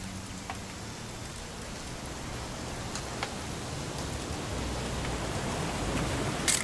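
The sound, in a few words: rain falling in the video game The Finch house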